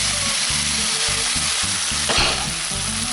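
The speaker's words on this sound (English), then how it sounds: "simmering away with the lid on so it steams as well for around 10 minutes to soften everything down" Chopped vegetables for chicken mulligatawny soup sizzle and fry steadily in a lidded pot, a continuous close crackle with faint stirring scrapes, no voices.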